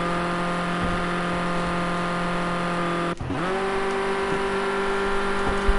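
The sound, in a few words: Ford Escort RS 1600 race car engines, racing video game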